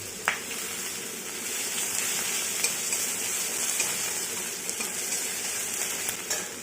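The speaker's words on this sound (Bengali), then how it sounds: "এগুলো হালকা ভাজা হয়ে গেলে রসুন কুচি দিয়ে দেবো আর" Cumin, cloves, fennel, bay leaf, cinnamon, dried chilli, chopped garlic and ginger frying in oil in a home kitchen pan for a Bengali fish curry, giving a steady close sizzle with occasional sharp spatters and stirring clicks.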